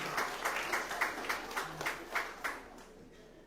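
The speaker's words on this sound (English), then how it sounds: "Let's give them a round of applause" Audience applause at a Hermitage Government School graduation ceremony, a moderate burst of clapping with distinct rhythmic peaks that thins and fades out by the end.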